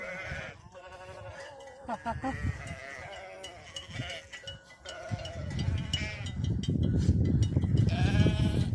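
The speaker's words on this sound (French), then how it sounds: "C'était le plus gros troupeau de moutons de Haute-Savoie." A large flock of sheep in the Haute-Savoie mountains above Morzine bleats in overlapping, wavering calls, near and far, building into a dense, noisy chorus toward the end with occasional voices mixed in.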